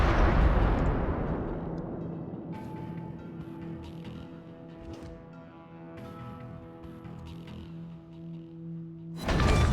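Naval gunfire in World of Warships, a heavy booming salvo at the start rolling off into a long rumbling tail with engine hum, then another loud blast near the end; no talking heard.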